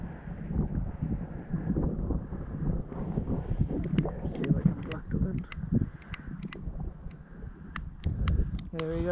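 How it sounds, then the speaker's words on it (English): Outdoor breeze on the coast near Dingle, Ireland, buffeting the microphone in low, uneven gusts beneath people chatting while trying to light a fire with lighter fluid, with a few sharp clicks near the end. "It's quite windy."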